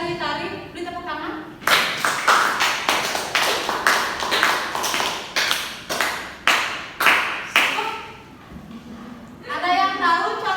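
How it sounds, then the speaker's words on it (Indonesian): Children in a classroom clap together in a quick rhythmic burst of applause for a classmate's correct answer, running several seconds with voices speaking just before and after. "Beri tepuk tangan."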